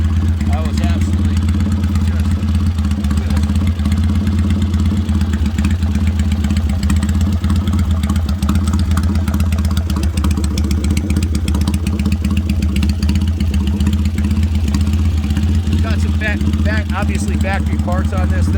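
A 1968 Triumph T120R motorcycle, a former factory racer now set up as a street tracker, idles with a steady, loud low rumble throughout while someone talks over it.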